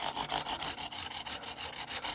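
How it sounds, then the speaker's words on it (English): Rolled 600-grit sandpaper rubs back and forth over the fret ends of a Dean Dimebag Darrell guitar, giving a steady rhythmic scratchy swish at close range. "we're gonna take a little piece of 600 sandpaper. I got it all rolled up here"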